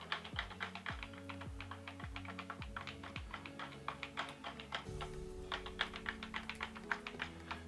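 Keys pressed one after another on a ZX Spectrum membrane keyboard, a steady run of soft, close taps with a low hum of background tones underneath and no voices.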